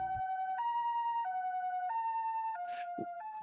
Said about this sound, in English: Oh, that's an ambulance.